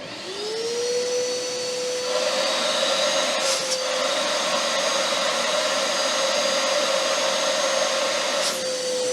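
A wet/dry vacuum cleaner runs steadily at close range during a suction test, its motor spinning up at the start and holding a loud, even whine throughout, with brief rattling bumps partway through and near the end.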